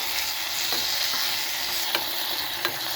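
Onion, garlic and tomato sautéing in hot oil for scrambled eggs: a steady close sizzle with a few light stirring scrapes and taps, no voices.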